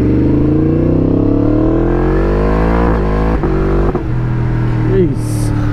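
A hyper-naked motorcycle accelerates hard, its engine note climbing through several quick shifter gear changes heard as brief dips between rising pulls, loud and close from the rider's position, with a voice briefly over it.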